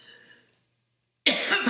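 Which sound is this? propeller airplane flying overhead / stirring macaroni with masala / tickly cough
tickly cough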